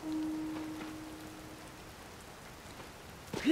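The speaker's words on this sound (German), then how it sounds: "Natürlich jetzt mega doof mit dem Regen hier." Rain falls in the video game Zelda: Tears of the Kingdom, a soft, steady patter across the whole short stretch, faint and even, with a brief tone near the start and a small clatter at the end.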